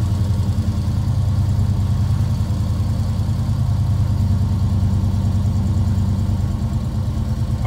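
A car engine idles loud and close just after starting, a steady low rumbling throb that holds without revving and without any talk.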